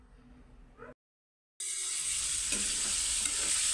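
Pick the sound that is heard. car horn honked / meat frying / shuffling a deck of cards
meat frying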